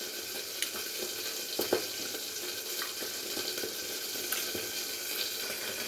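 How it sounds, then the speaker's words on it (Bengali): Pieces of aar fish fry in oil in a pan, a steady soft sizzle with occasional spatters and stirring clicks, close up and without speech. "আর এতক্ষণে মাছের আমার 1 পিঠ ভেজে নেওয়া হয়ে গেছে।"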